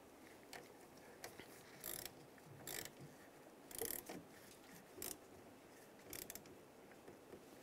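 Ratchet tightening the negative battery cable terminal on a 2007-2013 Chevrolet Silverado 1500, quiet clicking bursts spaced irregularly across a faint background, each short run of clicks close and soft.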